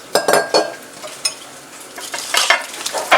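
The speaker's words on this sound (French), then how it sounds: "Je mélange bien avec tout." Lamb biryani ingredients stirred in a pot with a spoon, close scraping and clacking strokes in irregular bursts over a faint sizzle, no voices.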